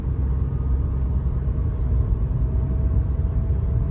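Nissan car engine accelerating at quarter throttle, a steady low rumble heard from inside the car, loud and continuous with no clear rise in pitch.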